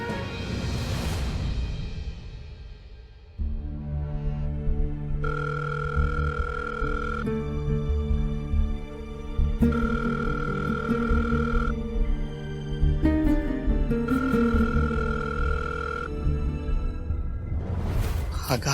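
A telephone rings in a household drama scene, repeating electronic ring bursts in a steady pattern over background music, with brief talk at the start.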